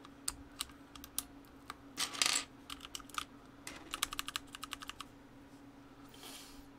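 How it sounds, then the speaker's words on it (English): Keycaps are pressed onto mechanical keyboard switches in a quiet room, giving a quick, irregular run of sharp plastic clicks and clacks, some in tight bursts. "even as you're putting keycaps on like this, you have like a suspicious feeling about the switches"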